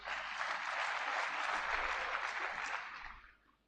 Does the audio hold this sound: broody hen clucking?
no